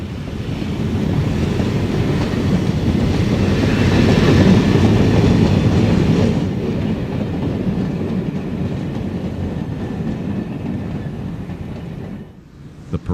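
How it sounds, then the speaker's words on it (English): A Chicago, South Shore and South Bend Railroad train of orange cars passes close by with a loud, rushing rumble and wheel noise that slowly fades, ending in sharp clunks. "Next up is a train of the orange cars of the Chicago, South Shore, and South Bend Railroad."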